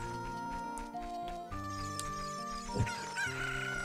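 Game chicken from Zelda Ocarina of Time 3D squawks and clucks in short bursts over melodic video game background music, fairly faint, with no speech.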